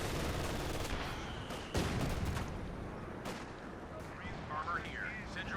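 Mortar counter-battery fire in the World War II strategy game Company of Heroes 2, with distant gunfire and a sharp heavier blast partway through, heard over a busy battlefield.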